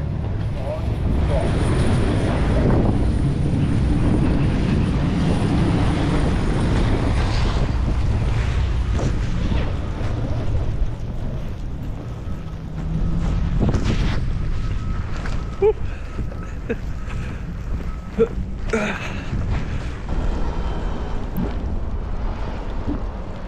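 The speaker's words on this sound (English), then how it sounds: "Pretty windy, but at least it's dry snow." Strong gusting wind roars and buffets the microphone in a dry-snow snowstorm, with a low rumble throughout and occasional scuffs and knocks, a voice talking intermittently beneath it.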